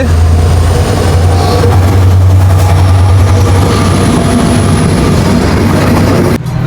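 Simanta Express train running past, a loud continuous rumble with a steady low engine drone that holds for several seconds, then cuts off abruptly near the end.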